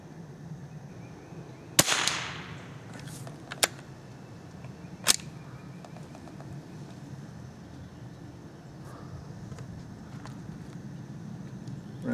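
Shots of .22 rimfire ammunition crack out sporadically, a few sharp isolated reports spaced seconds apart over quiet outdoor background noise.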